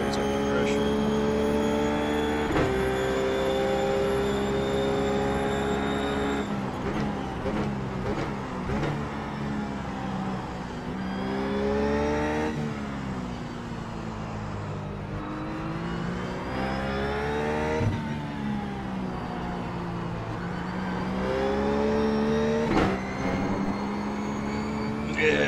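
RUF race car in iRacing at Mid-Ohio, its engine droning steadily with repeated rising revs and shifts through the laps, moderately loud and continuous.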